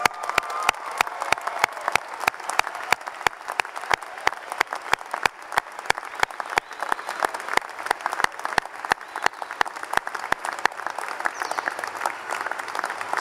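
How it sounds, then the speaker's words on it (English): Audience applause at a university freshman convocation for new Wolverines, a dense, steady wash of many hands clapping that stays loud and close throughout, with sharp individual claps standing out and no voices. "Give yourselves a round of applause."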